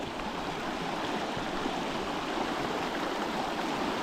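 Fast-flowing water in a coastal river in Oregon rushes in a steady, loud broadband roar that stays close and unbroken throughout, with no voices.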